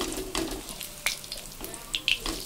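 Oil sizzling and spitting in a frying pan as food is added piece by piece for shrimp and dal cooking, a soft steady frying hiss broken by brief crackles and sharper pops, close and fairly quiet.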